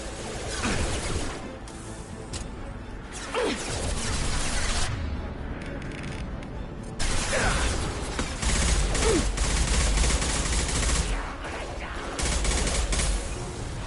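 Impact shot power fired in Mass Effect 2, heavy bursts of game combat noise with several sharp blasts and crashing impacts over a dense, continuous battle din.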